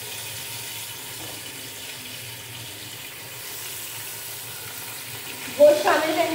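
Beef with garlic paste fries in a pan for cabbage gosht, giving a steady, close sizzling hiss that swells into a louder burst of crackling near the end.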